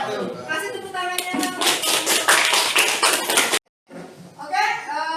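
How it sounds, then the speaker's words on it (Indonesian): A classroom of students claps after a discussion, a dense burst of hand claps for about three and a half seconds, then a brief silence before voices resume talking. "Kasih tepuk tangannya."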